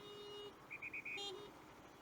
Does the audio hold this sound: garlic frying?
no